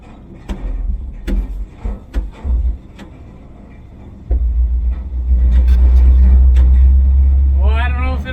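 An old Ford F-100 pickup, revived after sitting in a junkyard for 20 years, rumbles down the road, engine drone swelling loud and close in the second half, with scattered knocks and a voice talking over the start.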